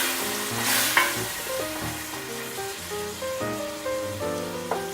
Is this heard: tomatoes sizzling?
yes